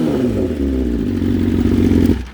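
A Ducati motorcycle engine runs loud and close, a deep pulsing idle building into a brief rev before dropping off, heard alone.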